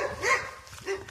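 A dog barks and yips in short bursts close by, a couple of sharp calls with some whimpering, while people talk faintly around it.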